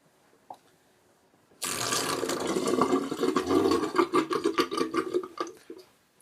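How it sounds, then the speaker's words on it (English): A bathroom sink draining its water after wet shaving, starting abruptly with a loud, gurgling, sucking rush that pulses and rattles for several seconds before tapering off, close by and unaccompanied by speech. "I'm going to empty my sink so I can get rid of those sink whiskers."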